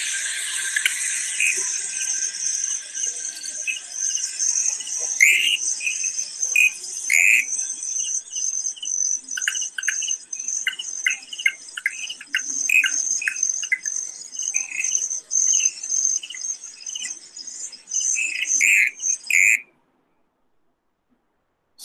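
Territorial calls of a Pseudophilautus frog: a steady high-pitched insect-like trill with repeated short chirping notes, continuous and fairly close, with no voices, ending abruptly into silence.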